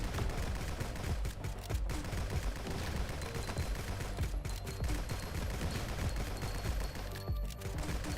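Dense, continuous gunfire from the video game GunCraft, with rapid overlapping shots and bursts rattling steadily throughout at a loud, close level, with no pauses.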